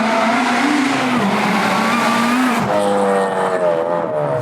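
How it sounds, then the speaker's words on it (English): A 316 bhp supercharged Honda Integra Type R DC5 engine revs hard and close, its pitch climbing under load with a supercharger whine, then dropping at a shift before pulling again. "the supercharger whine is insane"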